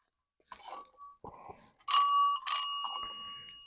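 An old telephone bell from a scouting-era mess kit rings weakly: faint scattered taps, then a few short, thin metallic chimes with brief ringing tails, quiet and intermittent rather than full.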